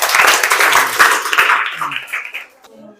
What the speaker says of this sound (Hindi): ताली बजा दो कस के एक बार